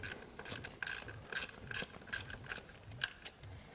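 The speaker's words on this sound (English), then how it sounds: "put the socket on and we'll back it out." Close, crisp clicks in uneven bursts come from a socket ratchet as it backs out an ignition coil bolt on a GM 3100 engine.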